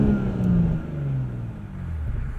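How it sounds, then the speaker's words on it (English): Inline-six engine of a 2020 BMW 840i xDrive Gran Coupe revving, a low, smooth exhaust note that rises and then falls back, heard from inside the car. "This inline 6 sounds awesome."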